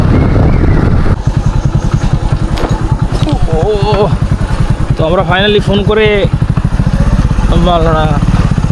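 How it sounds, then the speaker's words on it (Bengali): A motorcycle engine putters loudly and steadily up close with an even, throbbing rhythm on a family outing near a riverside. Several people chat over it throughout. "মোটর সাইকেল নিয়ে এসেছি"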